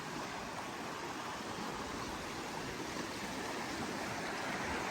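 Muddy brown river water on the Verde River rushes past in a steady, full-bodied roar near a riverside campground, broadband and unbroken throughout with no voices.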